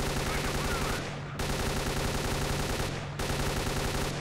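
Sustained gunfire from the S.T.A.L.K.E.R.: Clear Sky game, a dense continuous rattle of shots with two brief dips near one and three seconds, loud and steady throughout.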